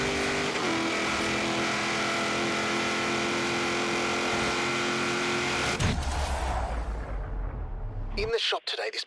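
Street racing cars in a video game drag race, engines roaring loud and sustained for most of the stretch, then a sudden shift to a rougher low rumble near the end before cutting to quiet, with a voice talking over it.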